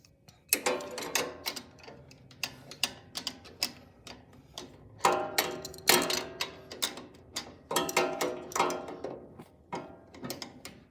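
Wrench ratcheting and turning against the conveyor belt holder on a BakeMax reversible dough sheeter, giving repeated clustered metallic clicks in bursts, close and fairly quiet, with no talking.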